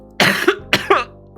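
A person sick with a cold coughs several times in close succession, loud and near, each cough a harsh burst, with a final cough trailing at the end and no talk.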